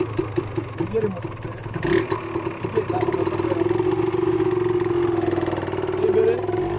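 A motorcycle engine hums and idles nearby during a riding lesson on a practice ground, a steady mid-pitched drone with some clatter, while an instructor talks over it.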